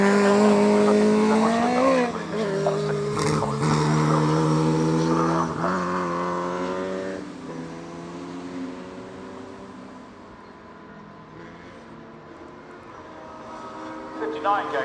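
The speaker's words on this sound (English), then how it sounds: "Going nicely, the BMC Mark II." A BMC Mark II Formula Junior race car drives past on a historic racing circuit, its engine loud and revving up then fading into the distance, with a commentator talking over it.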